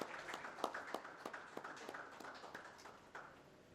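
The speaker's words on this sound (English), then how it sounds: "A big round of applause to Sunil ji for his wonderful contribution in the panel." Scattered audience clapping after a panel session on AI and cybersecurity at a CISO summit, a thin, uneven patter of separate claps, moderately distant and soft, with no one speaking.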